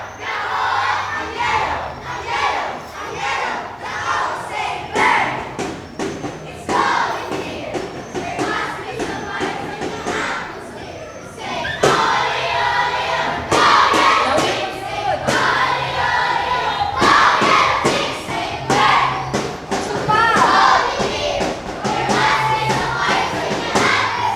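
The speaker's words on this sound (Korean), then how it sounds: "아이들의 함성이 들려오고 있습니다." A large group of children at a local school in the Philippines shouts and cheers loudly, waves of crowd noise swelling and receding with scattered thumps for over twenty seconds.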